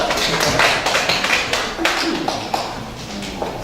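An audience at an academic lecture event claps to welcome a presenter to the stage, steady close applause with a faint voice mixed in before it thins out.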